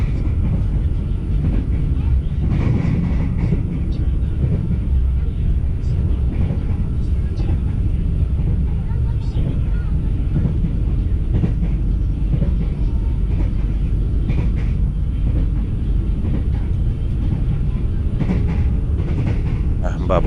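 An Indonesian economy-class passenger train heard from inside the carriage, a steady loud rumble with faint rail clatter running throughout, with people talking over it.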